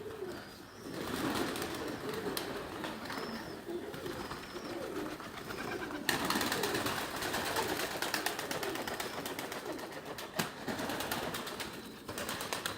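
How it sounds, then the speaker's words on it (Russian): Pigeons in Dushanbe, Tajikistan, coo steadily and softly in a continuous murmur, several birds close by, with occasional rustles and a faint flutter of wings. "Местные голуби."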